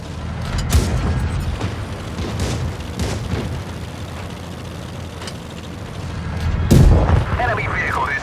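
A tank battle video game fills with repeated booming cannon shots and explosions, some near and heavy, others farther off, against a low rumbling background, with brief spoken game voice lines between the blasts.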